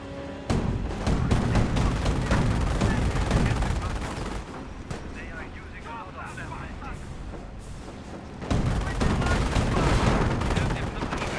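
Gunfire in a Company of Heroes battle, with rapid overlapping rifle and machine-gun bursts and heavier booms in a thick barrage that eases in the middle, then picks up again, while a commentator talks over it.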